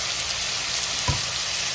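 Tomato, onion and grated ginger sizzling in a pan for a cauliflower and pea curry, a constant close hiss with one dull knock partway through and no talk.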